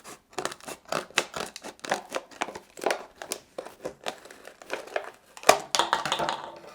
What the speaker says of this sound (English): So I think we're just going to cut down the middle, and we will only have to make 1 cut on this